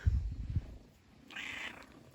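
A ginger cat purring softly and close, a low steady rumble that fades in and out in a quiet indoor space, with a brief higher squeak near the end.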